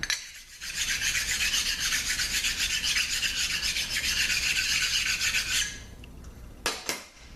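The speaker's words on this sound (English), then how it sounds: "Give this a quick sand." A Toyota A140 transmission valve body part is sanded by hand with a steady, close, raspy rubbing stroke that runs for about five seconds. It then stops, followed by a couple of light knocks.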